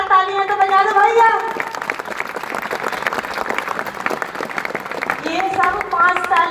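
An audience claps steadily through the middle stretch, dense and continuous, with talk over the start and end.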